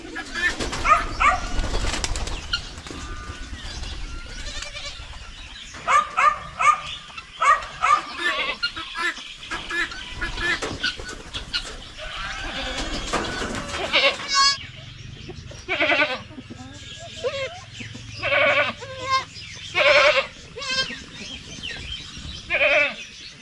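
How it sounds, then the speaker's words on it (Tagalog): Goats let out of their pen on a rural farm bleat repeatedly, several loud calls close by, mixed with birdsong and people talking in Tagalog. "Masaya yung mga kambing natin na pinalabas natin sila."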